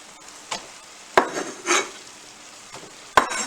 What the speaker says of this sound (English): I'm basically steam frying the vegetables in a light butter.